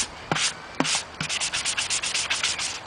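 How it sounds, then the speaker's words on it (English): Steady rasping strokes of sandpaper rubbing painted plastic clone trooper armor, a few separate passes then a quick rhythmic back-and-forth run, close and alone. "And by sanding in different directions, just gives you multiple weathering appeal."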